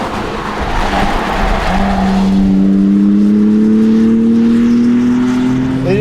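A BMW M3 CS (G80) on Michelin Pilot Sport Cup tires accelerates hard on a race track. The engine pulls loudly and steadily while its pitch climbs through a long gear, and a brief shift comes near the end.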